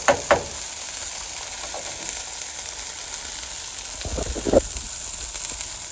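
Onions and mushrooms sizzle steadily on a Callow four-burner plancha grill, with a continuous hiss and a few louder scraping stirs close by, no talk.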